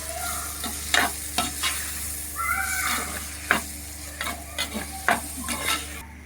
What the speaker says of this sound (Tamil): எல்லாமே நல்லா போட்டு இதோடு சேர்த்து நல்லா மசாலாவோடு நல்லா வதக்கலாம்